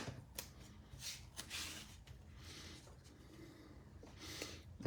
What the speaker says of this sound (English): we're gonna add some tape runner to the back